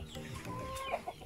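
Sick native chickens at a small farm give a few short, soft clucks close by over a quiet background, with no talk.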